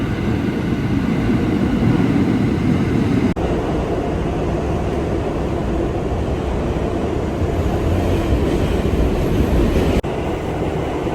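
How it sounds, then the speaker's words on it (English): A late train pulling into a station, heard as a steady, loud rumble of wheels and rolling stock that fills the whole stretch, with a brief dip partway through and no voices. "Finally, the train is here."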